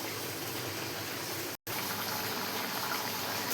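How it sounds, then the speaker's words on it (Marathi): A pan of mixed vegetable curry with cauliflower, cabbage and potato simmers with a steady, dense bubbling hiss, close and even, interrupted by one brief gap of silence. "अशी किती मस्त आपली अशी भाजी शिजत आहे बघा आता"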